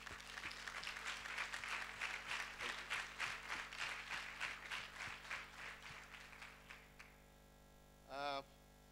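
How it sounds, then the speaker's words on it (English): A conference audience at an entrepreneurship summit claps for about seven seconds, a dense patter of hands that swells and then fades over a low mains hum, followed by a brief tonal electronic whine near the end. "let's give them an applause to all of them for what they offer us"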